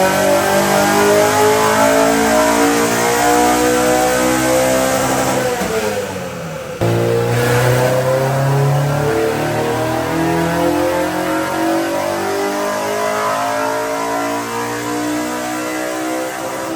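A car on a dyno making almost 199 wheel horsepower revs hard and loud in a long sweeping power run, with a brief dip around the gear change before the roar climbs again and holds to the end.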